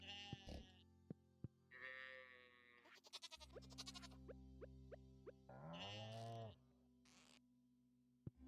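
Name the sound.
sheep bleating in the video game Stardew Valley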